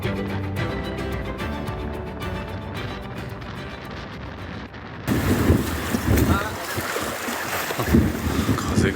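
Strong wind gusts across a stone pier on Taketomi Island, buffeting the microphone with loud rumbling bursts that grow rougher partway through, over faint background noise.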